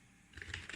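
Keys clatter on a computer keyboard as someone types terminal commands, a few quick close taps after a brief pause.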